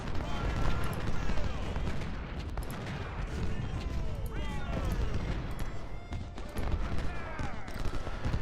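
Cannon and musket fire rage through a battle in the video game Ultimate General: Civil War, a dense, continuous barrage of booms and crackling shots with someone talking over it throughout.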